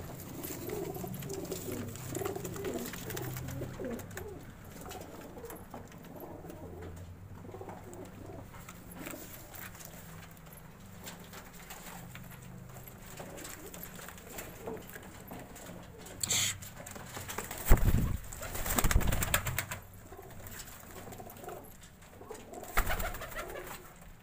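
Soft, low coos from red-eyed pigeons repeating against faint background noise, with a few louder clattering bursts near the end.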